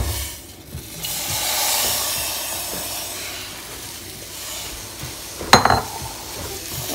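Chopped onion fries in about a quarter cup of table oil in a pan, giving a steady, close sizzle and hiss. A brief metallic clatter of a utensil against the pan cuts through partway along.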